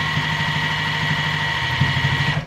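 Sewing machine stitching the last two seams of a fabric bowl cozy, a steady close mechanical whir with a rapid rhythmic needle pulse that runs continuously and cuts off at the end.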